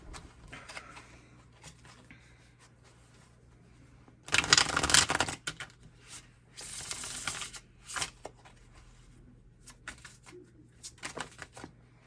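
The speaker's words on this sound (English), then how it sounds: "Let's pull you some more cards." A deck of tarot cards is shuffled and drawn during a pick-a-card reading, with one long, loud riffling burst followed by a second, shorter one, then scattered soft flicks and taps as cards are pulled.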